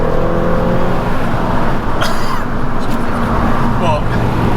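A sports car driving the hill course circuit at the Millbrook proving ground, its engine and road roar loud, close and steady throughout with little change in pitch.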